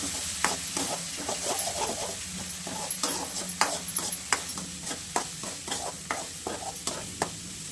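Tomato cooks with onion and masala in a pan, a steady sizzle under repeated scraping and stirring strokes of a spoon, close and moderately loud, with no talk.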